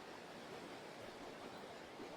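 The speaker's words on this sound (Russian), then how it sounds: "Шумит так река." Steady rushing water of a river in the Altai mountains roars continuously in a broad, even wash of noise, with no breaks, close by.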